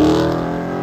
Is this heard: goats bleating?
no